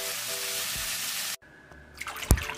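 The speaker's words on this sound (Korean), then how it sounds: "삶아진 고사리는 물에 깨끗이 두어 번 헹궈 체에 받쳐 물기를 빼줍니다." Market-bought boiled bracken fern rinsed in water in a home kitchen: a steady loud wash of running water that cuts off abruptly, followed by quieter splashes and a few sharp knocks.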